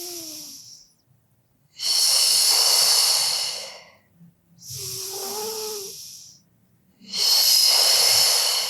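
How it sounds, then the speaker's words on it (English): Deep, slow breaths during a morning stretching routine, with three long, loud broadband exhales and inhales separated by short pauses, close to the mic and alone. "And exhale. In breath. Exhale."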